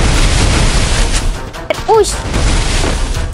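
A gunshot in a shooting video game sounds as a sharp blast amid dense, loud game noise, with a player's voice exclaiming briefly right after.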